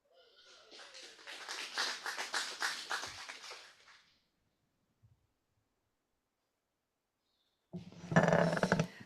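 A Rotary Club of Gainesville meeting audience claps for about four seconds. The applause swells and fades, then silence follows, and a brief burst of sound comes near the end.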